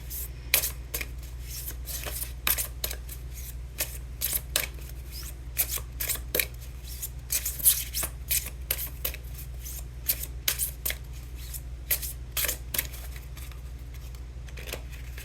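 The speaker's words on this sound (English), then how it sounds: "I'm going to draw 2 cards from this Tree of Life Oracle deck" Cards from a Tree of Life Oracle deck are shuffled and drawn, giving steady riffling and slapping card noise with sharp flicks and taps over a low constant hum, close to the microphone.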